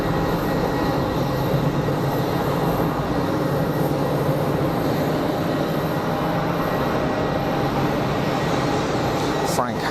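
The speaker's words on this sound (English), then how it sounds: "Aircraft on final. Looks like an easyJet Airbus." An easyJet Airbus airliner on final approach at Geneva Airport makes a steady, broad jet roar that holds throughout at a moderate distance, with voices talking over it.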